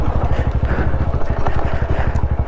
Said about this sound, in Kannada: ಯಾಕೆ ನನ್ನ ಬೈಕ್ ಜಿಂಗಲ್ ಬೆಲ್ಸ್ ಬರ್ತೈತೆ ಬರೀ?